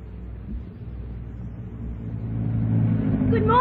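A car engine idles in a garage with a steady low rumble, rising slightly toward the end, heard indoors and fairly close.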